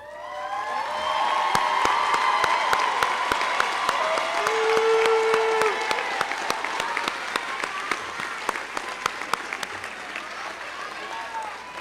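Sustained crowd applause fills a graduation ceremony as honor students stand to be recognized, dense clapping with cheering voices and a brief whistle, gradually thinning toward the end.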